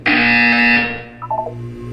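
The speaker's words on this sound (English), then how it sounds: "You will hear a buzzer." Electronic alarm buzzer from the video game Portal 2: a loud, harmonically rich tone that sounds for about a second, then fades and is followed by a few short, softer electronic chirps over a steady low hum.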